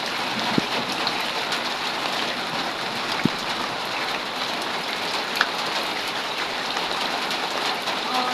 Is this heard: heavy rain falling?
yes